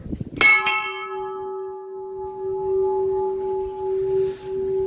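A single temple bell at an ancient Shiva temple on a hilltop in Punjab is struck once and rings on with a long, steady, sustained tone that slowly fades, with faint background rustle beneath.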